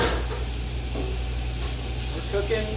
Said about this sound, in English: We want to get the onions where they're translucent and clear.